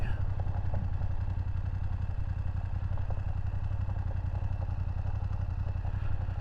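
A 2023 BMW F750 GS Sport motorcycle rolls downhill on gravel, its engine putting out a steady low throbbing drone with constant rumble and wind, heard close and continuous throughout.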